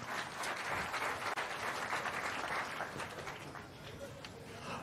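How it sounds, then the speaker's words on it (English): A round of applause for Kisumu Boys High School at the Safaricom Chapa Dimba Season 5 launch event: a dense, sustained wash of crowd clapping heard from a distance, steady throughout with faint crowd murmur mixed in. "Another round of applause for Kisumu Boys High School."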